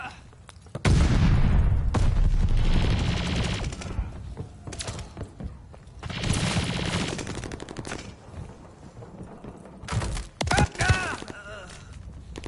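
Grenade toss during a Call of Duty firefight, with dense rapid gunfire and a heavy boom, bursts of shooting coming in waves and brief in-game voice callouts mixed in.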